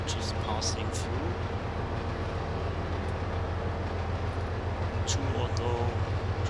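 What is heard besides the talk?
trains passing in Trainz railroad simulator video game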